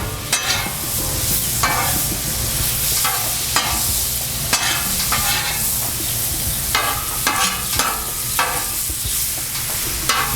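Mushrooms sauté on a Blackstone griddle over low heat, with a steady close sizzle and repeated bursts of spatula scraping and stirring every second or so, no voices.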